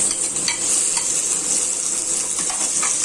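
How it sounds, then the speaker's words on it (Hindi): Potatoes sizzling in a hot pan of oil with curry leaves while a spoon stirs them, a steady bright frying hiss with soft scraping strokes, close and loud, no talk. "अब हम डाल देते हैं इसमें आलू"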